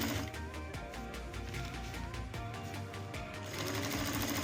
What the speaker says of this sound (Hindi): इस तरह जी ये दूसरी साइड भी आपने सिलाई कर लेनी है।